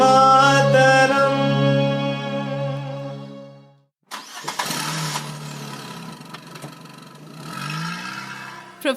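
A city car's engine cranks and catches after a loud harmonic tone fades out, then settles into a rough, uneven idle with a few revs, fairly close and alone.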